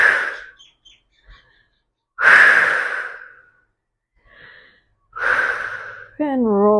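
Deep breathing held during a yoga bridge pose, three slow loud breaths close to the mic, each a long rush of air separated by quiet pauses, ending in a brief voiced tone.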